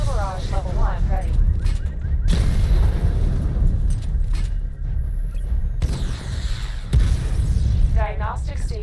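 Missile barrage fire in a Batman video game: a dense, continuous rumble of launches and booming blasts, loud and sustained, with a synthetic game voice speaking over parts of it.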